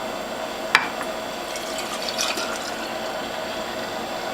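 Freshly made carrot and beet juice poured from a juicer, a soft trickling liquid stream with a brief sharp clink near the start and faint splashing, quiet and close with no voices.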